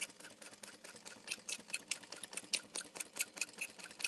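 A sewing machine stitches lines across a bag, its needle making a quick, faint, rhythmic clatter of closely spaced ticks that runs continuously.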